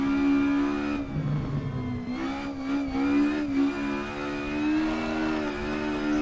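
An Escort Mk1 race car engine in the Assetto Corsa racing game revs hard in third gear with wheelspin, a loud, sustained buzzing drone that rises and dips steadily with no talk over it.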